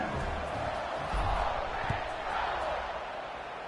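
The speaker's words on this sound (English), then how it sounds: "and this crowd now ready to get behind them." A football stadium crowd roars steadily at a college game kickoff, Ole Miss against Miami, the broad cheering continuous and loud throughout with some shouts rising above it.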